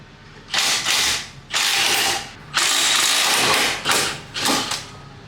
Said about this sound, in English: Now we want to remove the two 19mm caliper bolts on the back here with our trusty ugga-dugga.